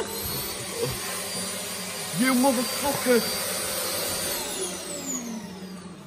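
An electric hand dryer blows in a college toilet with a steady roaring whoosh, while a man yells and swears loudly over it partway through.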